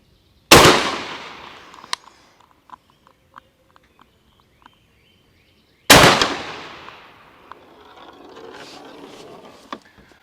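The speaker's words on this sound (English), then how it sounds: "Then I'm going to come back and fire 2 more slugs from 25 yards" Two heavy 12 gauge shotgun blasts firing 1-ounce lead rifled slugs at an outdoor range from 25 yards, each a loud close boom with a long decaying echo, spaced about five seconds apart, followed by faint clicks.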